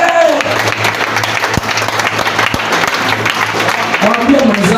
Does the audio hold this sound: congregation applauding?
yes